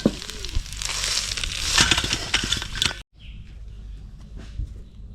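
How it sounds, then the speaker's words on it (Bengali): Pumpkin flower fritters fry in hot oil with a dense, loud crackling sizzle close up. It cuts off abruptly partway, and a quieter sizzle follows. "তেল গরম হয়ে গেছে এবার বড়া ভেজে নেব"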